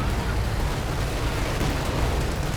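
A bazooka round strikes during a Company of Heroes 2 battle, giving a dense, continuous roar of explosions and artillery-like rumble that stays loud and steady throughout.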